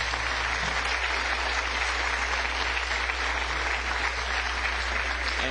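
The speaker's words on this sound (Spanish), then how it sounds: "Vamos a darle a ese acto un aplauso muy fuerte." Audience applause at a mathematics education conference in Ibagué, a dense, even roar of clapping that holds steady at full strength from start to finish.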